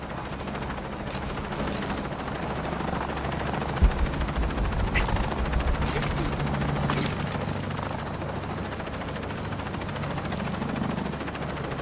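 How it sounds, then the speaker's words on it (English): Helicopter rotor thrum in the video game Shadow of the Tomb Raider, a steady low drone running the whole time, with gunfire bursts and action effects layered over it. "I'm in a chopper. I've got a pilot."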